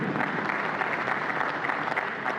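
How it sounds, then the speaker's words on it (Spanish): An audience at a political speech applauds, steady continuous clapping from a large crowd filling the room at even loudness, with no voices over it. "Desde acá un saludo, un aplauso para el hermano Fidel Castro."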